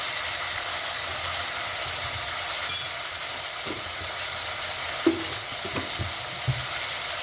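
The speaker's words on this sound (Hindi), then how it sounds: "चिकन ऐड करने के बाद लहसुन अदरक का पेस्ट हम शामिल कर देंगे इसके अंदर" Chicken fries in a pan with garlic-ginger paste, giving a steady broad sizzle with a few soft stirring knocks and clinks toward the end. No one speaks.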